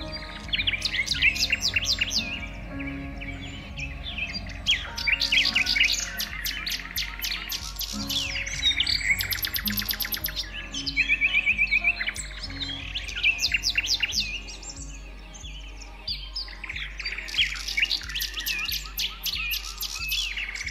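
Many birds sing and chirp close by in a long, dense chorus of bright trills and repeated tweets, overlapping calls rising and falling with brief quieter gaps.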